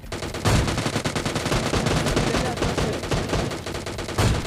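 Rapid gunfire from the mobile shooter PUBG Lite, dense bursts of shots crackling continuously and loudly with sharp peaks near the start and end, no voices.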